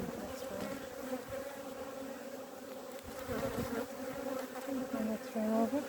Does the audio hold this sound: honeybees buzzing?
yes